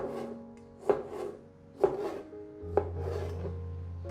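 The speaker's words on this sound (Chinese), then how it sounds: "把番茄切成小丁" A knife chopping a tomato into small dice on a cutting board, three distinct, evenly spaced close chops with light scraping between them, with a low rumble joining in partway.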